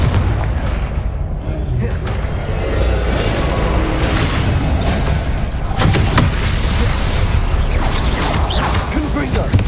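Repeated Confringo blast-curse explosions in the video game Hogwarts Legacy, loud booming bursts over a dense, continuous rumble of game noise, with a sharper crashing burst near the middle and a voice speaking in the clip.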